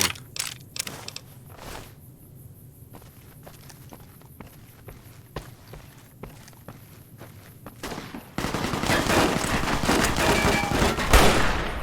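Gunfire in Fallout: New Vegas, a series of sharp, separate shots with footsteps in between, followed by a dense, loud stretch of sustained noise toward the end.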